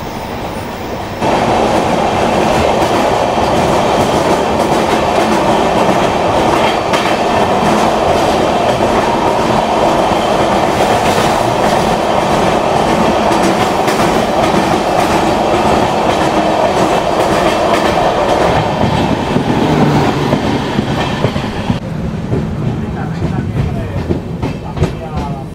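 From aboard the Rajdhani Express, the Kamrup Express rushes past on the adjacent track, a loud, close, continuous roar of wheels and rattling coaches with clickety-clack rhythm lasting over twenty seconds before easing off near the end.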